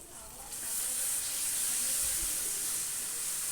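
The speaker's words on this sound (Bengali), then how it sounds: "এবার এই লবণ আর হলুদটা দিয়ে কচু শাকটাকে ভালো করে আমি লেড়ে নেব" Taro leaves cooked with salt and turmeric are stirred in a hot pan, giving a steady hiss and sizzle that swells after half a second and holds with faint scraping underneath.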